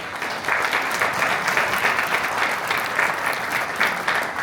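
Audience applause at a New York Fashion Week show during a charity segment, steady dense clapping from a large crowd sustained throughout.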